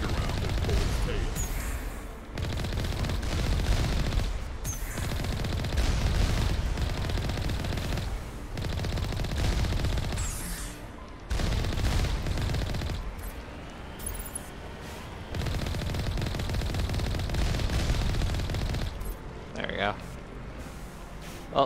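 Turret gunfire in the Mass Effect video game, steady stretches of rapid automatic fire with short breaks, mixed with game noise and a person talking.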